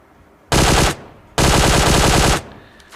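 Automatic rifle fire in a battle royale video game: two loud, close bursts of rapid shots, the first short and the second longer, with no talk over them.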